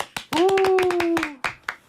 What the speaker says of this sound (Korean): 오늘은 안 하던 박수 쳤습니다.